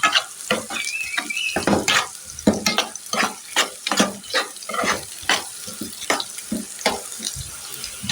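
Eggplant frying in a pan with steady sizzling and repeated stirring scrapes and clatters, close and fairly loud, with no talk.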